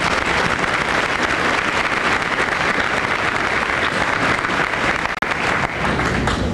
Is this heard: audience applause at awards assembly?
yes